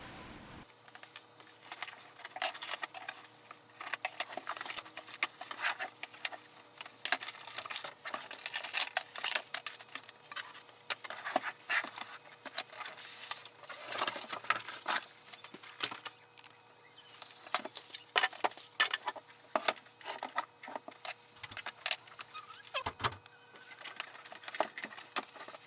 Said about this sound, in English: So let's unbox it.